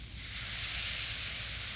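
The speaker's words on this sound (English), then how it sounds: "Listen to that sizzle." A T-bone steak sizzling on a hot grill or pan, a soft steady hiss of searing beef heard alone, continuous and fairly quiet.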